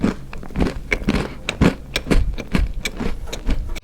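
Crunchy biting and chewing of a triangular Pepero chocolate stick topped with double almonds and dark chocolate, close and loud, with repeated sharp crackly bites and crunches throughout and no talking.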